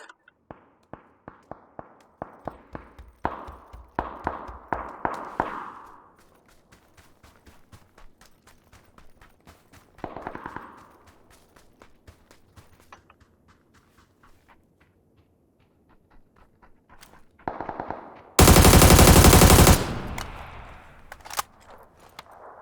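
PUBG gameplay on PC with sharp, scattered gunshots and rapid clicky footstep-like taps, some bursts louder and closer, plus a short loud blast of noise near the end.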